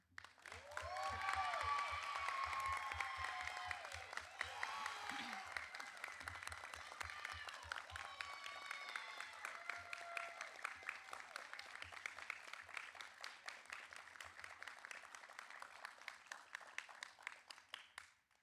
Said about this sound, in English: join me in a round of applause for the graduates